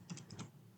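A few quick keystrokes on a computer keyboard, close and fairly quiet, in a short burst of three or four taps that ends in near silence.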